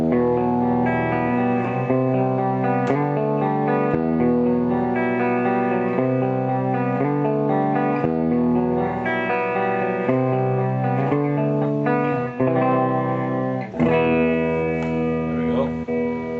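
Electric guitar played through a Digitech RP250 modeling a '65 Twin Reverb amp, clean tone with reverb: continuous strummed chords and ringing notes, steady and fairly loud, with sustained harmonic ring throughout.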